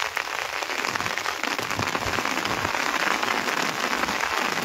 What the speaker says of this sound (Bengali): খুবই বৃষ্টি ঝরছে।